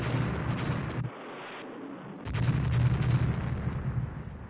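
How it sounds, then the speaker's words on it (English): Naval gunfire from destroyers bombarding a target in the naval strategy game Rule the Waves. Heavy booming blasts and rumbling artillery roll loudly, dip briefly and then surge back in a dense, sustained barrage. "It's the destroyers taking care of the bombardment target."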